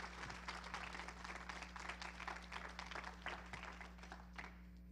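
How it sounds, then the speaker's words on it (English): Applause from an audience at a university Martin Luther King address, a steady dense patter of many hands heard faintly at a distance over a constant low electrical hum. "Give them another round of applause."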